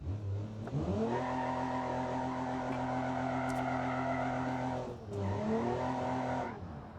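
A 1978 H 1500 with an old four-barrel carbureted inline-six engine in the BeamNG Drive driving game, revving up hard and holding a steady loud drone, dropping briefly near the end before climbing again.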